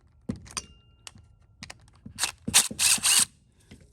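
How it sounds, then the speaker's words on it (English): A 7mm socket and ratchet work on a Toro lawn mower, giving several short metallic clicks and rattles, then a louder burst of ratcheting near the end, close up with no talk. "A 7mm socket."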